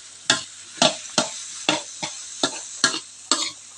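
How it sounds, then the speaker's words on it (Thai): Fermented pork sausage and thick-cut sponge gourd stir-fried in a pan, with eight sharp scraping strokes of a spatula at a steady rhythm over a soft sizzle, close and fairly loud, no voices. "แล้วก็จะผัดจนกว่าบวบมันจะยุบตัวนะคะ"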